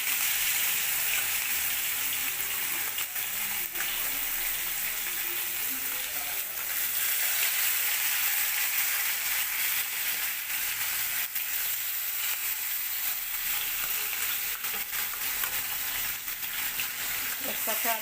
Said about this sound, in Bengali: এখন সব মাছগুলো ভালো করে ভেজে নেব।